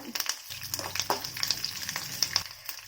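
Garlic, dried red chilli and curry leaves crackle in hot oil for pepper rice, with uneven spitting pops and a bubbling sizzle over a couple of seconds.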